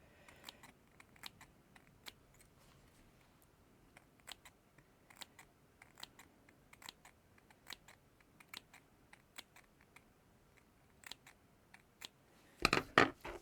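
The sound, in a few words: cutting fabric with small sharp scissors for reverse applique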